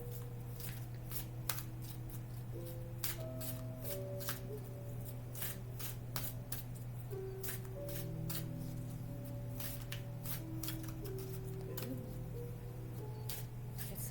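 Tarot cards being shuffled close up, repeated riffling snaps and flicks in an uneven rhythm over a low steady hum.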